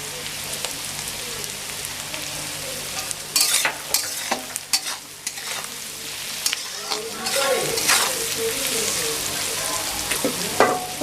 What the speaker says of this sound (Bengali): সবজিটা আমি মাঝখানে নাড়াচাড়া করে করে দিয়েছি। বেশি ভাজা ভাজা করব না